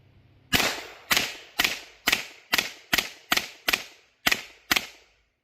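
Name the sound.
B&T SPC9 gun being fired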